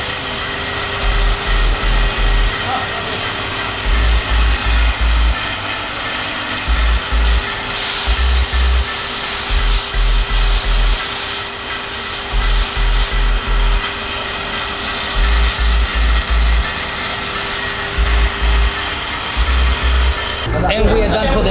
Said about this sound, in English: it's time to wash the floor